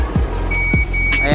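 A boom truck's safety alarm sounds as the wire is retracted: a steady high electronic tone runs through the latter half over a loud engine drone, with short repeated bursts spaced about every half second.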